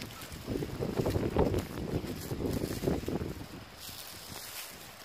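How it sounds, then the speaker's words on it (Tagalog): Wind gusts buffet the microphone outdoors during a garden harvest, a broad rushing roar that swells and fades over several seconds before settling to a lighter breeze. "Mahangin din."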